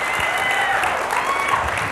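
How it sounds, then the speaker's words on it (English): Dense, steady applause from a live audience at an IndyTalks talk event with the actor Jeremy Renner, filling the whole stretch at close, even loudness with no voices rising above it. "Let's have a round of applause for Jeremy Renner."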